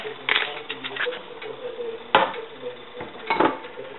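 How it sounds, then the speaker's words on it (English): A spoon stirring seasoned food, with black pepper just added, in a pot in an Italian home kitchen, giving close scraping and light metallic clinks against the pot with a few sharper knocks. "We're going to stir it a little."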